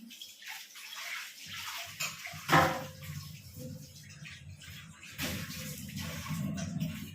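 Running water in a kitchen as food is rinsed under the flow, a soft continuous splashing that rises and falls, with a brief louder gush partway through, fairly quiet and with no voices.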